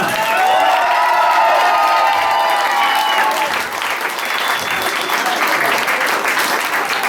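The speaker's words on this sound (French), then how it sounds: "On peut applaudir Audrey et Maxime, s'il vous plaît, plus fort que ça" A wedding audience applauds and cheers for the couple. Loud, dense clapping carries whoops and shouts at first, then settles into steady applause.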